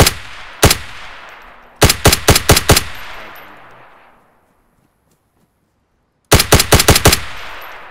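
Automatic gunfire in the DayZ video game: a single shot, then a rapid burst of five or six loud shots, a pause with fading echo and near silence, then another quick burst of about five shots.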